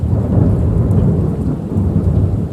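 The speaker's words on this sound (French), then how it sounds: "l'orage craque, les éclairs s'illuminent" Thunder in a storm rolls as a deep, continuous low rumble over steady rain, loud and sustained across the whole stretch with no voices.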